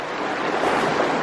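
Rushing creek water during a crossing on a winter hike in the MacIntyre Range, a brief, loud, close hiss of flowing water with no voices.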